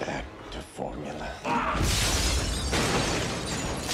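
Glass shatters in a scene from the Spider-Man movie as a body is thrown through it, a loud crashing burst that spreads into sustained noisy debris after earlier muffled scuffling and film sound.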